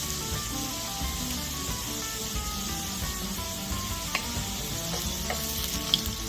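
Potatoes and vegetables for a loaded breakfast skillet fry steadily, a continuous close sizzle with occasional soft stirring scrapes and small pops.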